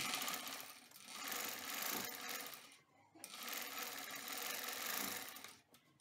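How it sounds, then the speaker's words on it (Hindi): A sewing machine stitches the back side of a baby top, running in two long steady bursts with a short pause between, close and fairly quiet. "बैक साइड पे सिलाई लगा के जोड़ लिए"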